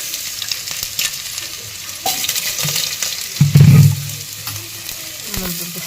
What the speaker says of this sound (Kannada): ಇವಾಗ ಸ್ವಲ್ಪ ಸಾಸಿವೆ ಹಾಕ್ತೀನಿ. ಇವಾಗ ಆಲೂಗಡ್ಡೆ ಒಂದು ಹಾಕ್ತಿದ್ದೀನಿ.